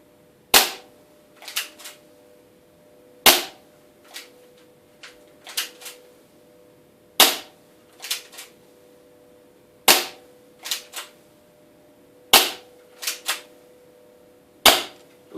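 A 325 fps airsoft gun fires at an indoor target in sharp, loud snaps, each shot followed by one or two quicker metallic rattles of the target, repeating every few seconds in a quiet room.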